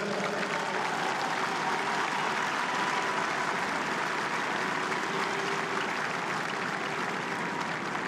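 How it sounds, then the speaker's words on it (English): Sustained crowd applause at the All-Ireland Club Final between Glen and St Brigid's, a dense, steady wash of clapping from a large stadium audience lasting throughout without any speech. "So a big round of applause for St."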